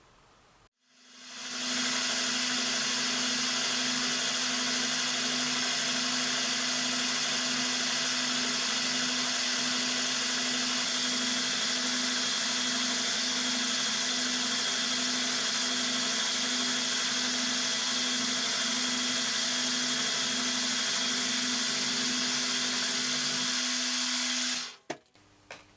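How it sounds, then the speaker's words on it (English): Machine cutting the top face of wooden stock in a workshop: a loud, steady, high-pitched whine with a constant tonal hum that spins up quickly, runs unbroken for over twenty seconds, then cuts off abruptly. "So we will get on now, machine that top face"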